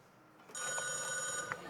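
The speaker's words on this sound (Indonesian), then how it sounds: "Udah telepon tuh." An indoor telephone starts ringing with a steady electronic trill that lasts over a second at moderate loudness against a quiet room.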